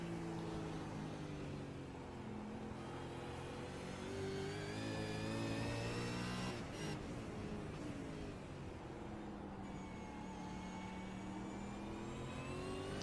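A V8 Supercar revs hard on the Imola circuit, its engine climbing through the gears in a continuous rising whine. It shifts briefly and then climbs again, and no voices are heard.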